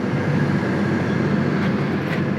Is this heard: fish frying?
no